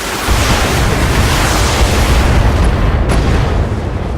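A turret blows up in the Battletech video game, a loud, sustained explosion with a deep rumbling roar filling the clip for several seconds, heard alone without voices.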